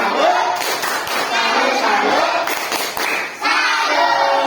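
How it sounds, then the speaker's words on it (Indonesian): Schoolchildren in a fifth-grade class clap their hands together in a loud, close burst of applause, with children's voices and a teacher's speech mixed in. "Iya, tepuk tangan. Beri tepuk salut."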